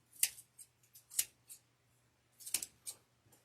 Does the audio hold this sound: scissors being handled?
yes